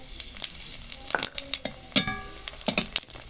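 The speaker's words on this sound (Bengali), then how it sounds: "এবার আমি ওই তেলের মধ্যেই শুকনো লঙ্কা জিরে ফোড়ন দিয়ে দিলাম" Dried red chillies and cumin seeds crackle and sizzle in hot oil left from frying fish, with close stirring scrapes and light clinks of a spatula on the pan.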